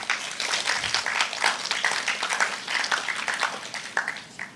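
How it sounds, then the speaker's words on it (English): Audience at a youth agriculture symposium gives a round of applause, a dense, lively patter of many hands clapping fairly close, steady throughout with slight swells. "I think you all deserve to give yourself a second round of applause."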